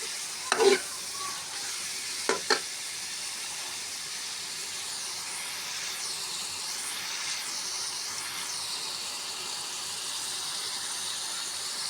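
Peshawari-style kaleji (liver) fries in a pan with a soft, steady sizzle and hiss, a few sharp utensil knocks early on, then constant frying alone.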